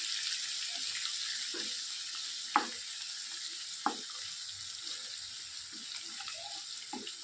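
Green chillies and coriander sizzle in hot oil for a khichdi tempering, a steady close frying hiss with a few sharp stirring clacks, no voices.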